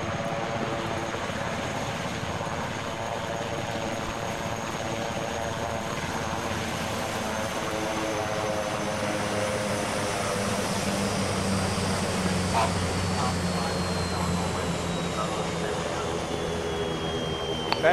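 Helicopter lifting off in the military video game Arma 3, a continuous loud engine and rotor drone holding steady for the whole stretch, with a faint tonal whine sliding downward late on.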